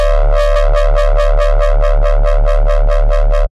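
A loud, buzzy dubstep synth bass made in Serum pulses in steady eighth notes, a wobbling electronic tone repeating evenly for a few seconds before stopping abruptly.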